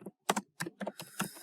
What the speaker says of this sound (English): So here I'll just type